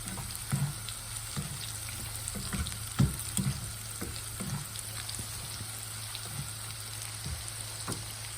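Okra and cashews frying in hot oil for a crispy bhindi fry, a steady close sizzle with crackling pops and occasional stirring clinks throughout, no talking.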